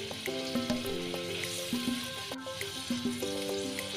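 Spice paste for a fish curry sizzling and frying in a pan, a steady close crackle carrying on alone.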